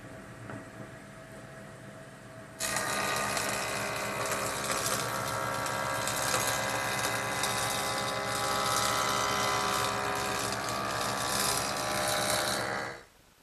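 A saw blade cuts a wooden board along the grain, starting abruptly after a quieter mechanical hum and then whining steadily and loudly for about ten seconds before stopping.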